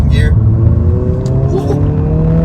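A 2023 Honda Civic Si pulls hard in second gear, its engine note loud and close inside the cabin, climbing steadily in pitch as it accelerates.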